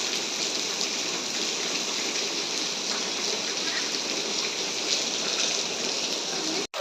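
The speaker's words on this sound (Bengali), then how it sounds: "বছরের প্রথম বৃষ্টি" The first rain of 2026 falls steadily, a dense, even hiss of rainfall that holds unbroken and loud throughout, then cuts off abruptly at the very end.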